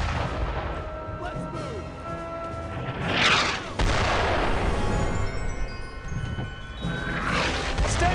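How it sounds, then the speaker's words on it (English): Mortar artillery fire in the World War II shooter Brothers in Arms: heavy booms and crashing impacts thud repeatedly across the scene, loud and close, with a constant battle rumble underneath and no clear break. "Wait for the mortars to finish."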